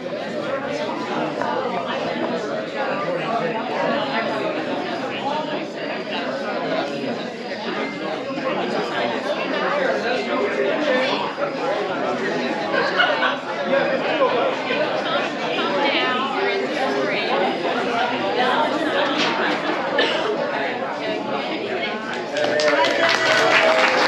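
Steady crowd chatter fills an outdoor pavilion at a North Carolina truck camper rally, many voices overlapping at a constant level with occasional claps and taps throughout.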